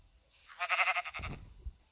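Bleating of a sheep in Minecraft with a cartoon-style texture pack: a single wavering, nasal bleat rises from near silence and then fades into a soft low shuffle, heard alone with no talk.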